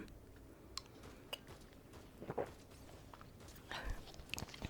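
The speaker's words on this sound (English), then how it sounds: "if you don't mind me, chewing and talking" Soft, close chewing and crunching of food with a few quiet whispers, faint mouth and bite sounds spread through the stretch at low volume in an ASMR eating session.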